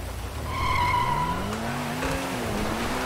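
A car in GTA V launches hard from a standstill with launch control, tires squealing briefly as the engine note climbs steeply in pitch, loud and close.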